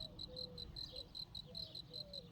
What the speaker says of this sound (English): I said to her, I think it's a cricket or something like that.